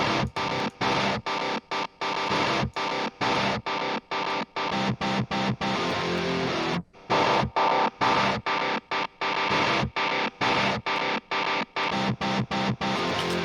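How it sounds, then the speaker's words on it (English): Distorted pop punk electric guitar, reamped through a Kemper and narrowed with an EQ telephone-style filter, plays loud, choppy chords in tight rhythmic bursts separated by short silences. "What I want to do with that is I want to put it like the telephone filter sound effect to it."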